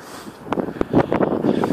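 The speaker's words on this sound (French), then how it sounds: "ça doit être désagréable pour vous le bruit du vent maintenant" Wind buffeting a microphone outdoors on a slag-heap hill, with low, gusty rumbling that swells and surges in uneven bursts, growing louder toward the end.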